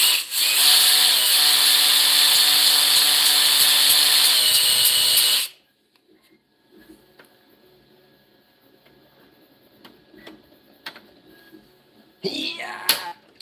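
A power tool grinds down the ends of metal parts, a loud, steady harsh whine running continuously for about five seconds, then cutting off to near silence with faint shop noises and a brief burst at the end.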